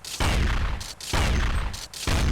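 M3 shotgun firing in the 1999-2000 Counter-Strike video game, three loud booming blasts spaced evenly about a second apart, each with a short decaying tail.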